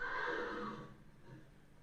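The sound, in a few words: horse neighing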